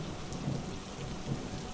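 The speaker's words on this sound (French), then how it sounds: "la tempête approche et que le vent souffle à une vitesse phénoménale" Steady thunderstorm ambience with heavy rain and wind, a dense continuous rushing wash with low rumbling undertones, soft and even throughout.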